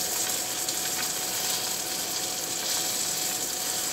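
A sole fish frying in a pan gives a steady, even sizzle that stays at the same level throughout, close and continuous with no talking.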